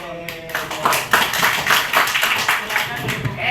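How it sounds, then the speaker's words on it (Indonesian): Scattered clapping from a classroom of students at SMA Nusantara Indah Sintang, a run of uneven hand claps with voices and chatter mixed underneath throughout. "Oke, terima kasih tepuk tangan"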